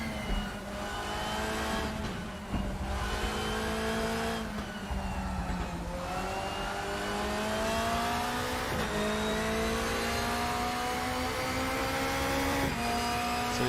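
Race cars at the Brno circuit, with several engines revving high and shifting gears as they pass one after another, loud and continuous, with whining tones that rise and drop.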